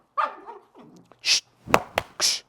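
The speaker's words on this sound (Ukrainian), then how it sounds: "Песики" Dogs bark and yip close by, a handful of short, sharp barks and higher whining yelps in an irregular burst, with no talking over them.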